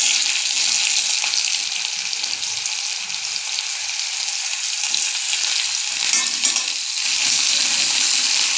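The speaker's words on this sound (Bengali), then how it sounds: "পেঁয়াজটা একটু লাল লাল করে ভাজা হবে" Onion frying in a hot pan with garlic and chili, a loud, steady sizzle and crackle up close, with occasional stirring scrapes and no talking.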